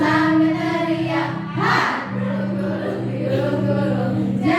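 Group of people shouting together during a rolling-hands clapping game at a teachers' training session, loud sustained voices with a rising burst midway, crowd noise throughout.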